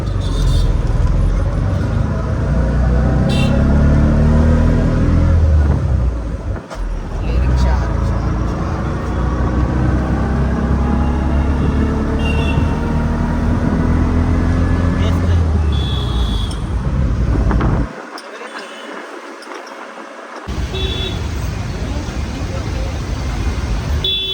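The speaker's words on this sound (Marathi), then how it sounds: "आमचा रिक्षाचा प्रवास परत चालू झालेला आहे." An auto rickshaw rolls through city traffic, its engine rumble and road noise running under steady talk from passengers, with a brief drop to near silence partway before the ride noise returns.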